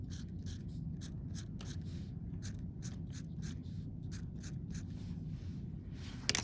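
A pencil scratches across paper while drawing a math model, with quiet, rhythmic short strokes and taps in close succession over a faint background hum and no talking.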